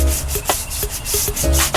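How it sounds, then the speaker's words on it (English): Old paint on a bass boat hull being sanded smooth before repainting, a steady close rasping rub with repeated back-and-forth strokes, no voices. "Making sure everything sanded down smooth"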